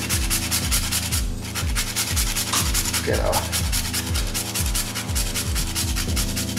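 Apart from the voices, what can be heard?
grating a fresh nutmeg into the seasoning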